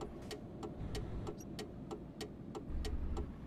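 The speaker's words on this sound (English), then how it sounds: "Love the indicator sounds." Truck turn indicator in Euro Truck Simulator 2, a faint, steady ticking at a regular pace over a low engine hum inside the cab.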